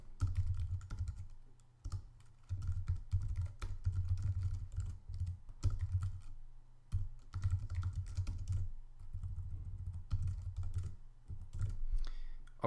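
Steady typing on a computer keyboard while writing code comments, quick clustered keystrokes in bursts with short pauses, close and fairly quiet.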